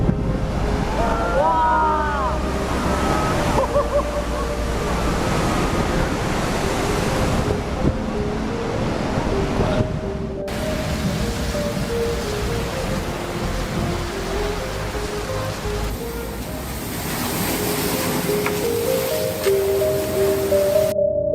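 Pacific Ocean waves crash and surge in a continuous loud roar mixed with wind noise, with a voice speaking over the surf and music layered underneath.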